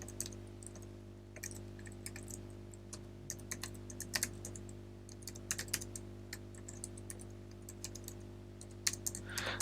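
Keys clatter on a computer keyboard in irregular bursts of close, light clicks over a steady low hum, with no talking.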